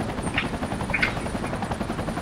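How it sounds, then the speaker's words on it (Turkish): A helicopter in the military shooter game Project Reality thrums steadily in the background, with a few sharp gunfire-like cracks over the rotor noise. "Bir tane helikopter de geldi buraya var ya."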